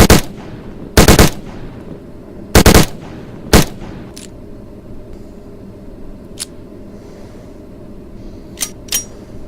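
A rifle fires in burst mode, several loud sharp reports in quick clusters within the first few seconds, followed by fainter scattered clicks and knocks over a low background hum.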